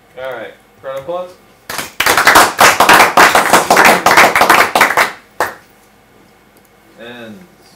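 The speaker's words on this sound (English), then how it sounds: "Alright, crowd applause." Brief burst of clapping from a small audience at a robot hacking demo, about three seconds of dense hand claps, loud and close, with speech before and after.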